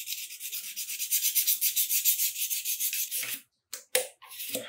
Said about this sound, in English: all I really want to do is smooth out those rough scratches left behind by the coarse diamond abrasive